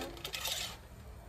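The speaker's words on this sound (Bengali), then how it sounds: "এবার আমি কড়াই বসাই দিই।" A metal kadai (wok) is set down on a stove in a home kitchen during Bengali cooking, giving a short bright metallic clatter and ring, close and fairly quiet, with no voices.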